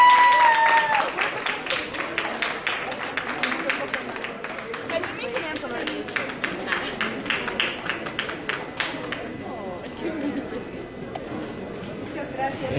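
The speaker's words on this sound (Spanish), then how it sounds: "pues un aplauso también" Audience applause at an art exhibition event for students of the E.N.A.P. U.N.A.M., dense rapid clapping close by that gradually thins and fades toward the end, heard without talk.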